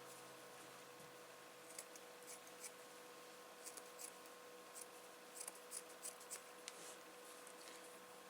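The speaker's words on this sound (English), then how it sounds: "Need a smaller piece of tissue. Let me get a scissors." Quiet, irregular snips of scissors through tissue, a few short crisp clips spaced out against a steady faint hum.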